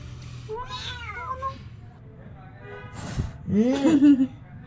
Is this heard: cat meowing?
yes